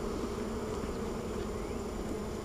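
Honey bees swarm around an open hive during an inspection, their dense, steady buzz filling the space close by without a break.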